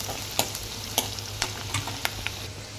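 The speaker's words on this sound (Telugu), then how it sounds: "ఇప్పుడు మనం దీన్ని కలిపేసుకుందాం." A spoon scrapes and stirs biryani ingredients in a hot pan, with a soft sizzle underneath and about half a dozen distinct clinks and scrapes at irregular intervals, close and fairly quiet.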